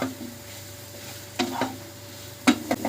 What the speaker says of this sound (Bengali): এবার ডিমটা আলু লঙ্কা পেঁয়াজ সবকিছুর সাথে ভালো করে ভাজা ভাজা হয়ে যাচ্ছে